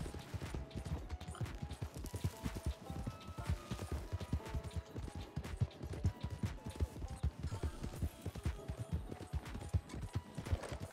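Horse hooves clip-clop in the video game Red Dead Redemption, a steady, dense rhythm of hollow knocks that continues for about eleven seconds at moderate loudness with no talking.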